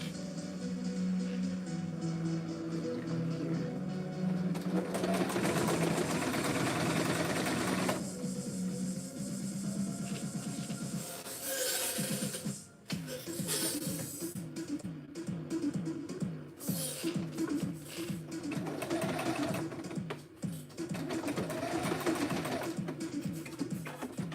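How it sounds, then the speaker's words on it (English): A domestic sewing machine top stitches through four layers of vinyl, whirring steadily at close range in sustained runs with a brief pause and rhythmic needle chatter, no voices over it. "So I'm going to just top stitch."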